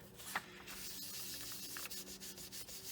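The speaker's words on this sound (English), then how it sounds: "I think I'll just give them a little burnish because I can see a fingerprint" Soft, quiet rubbing and brushing strokes come from burnishing a polymer clay pendant by hand, close and faint, with a few small scuffs and no talking.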